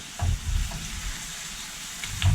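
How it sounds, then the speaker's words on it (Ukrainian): Meat sizzling on high heat in a hot pan, a steady crackling hiss with low stirring bumps, close and fairly quiet, no voices. "Обсмажую м'ясо на сильному вогні."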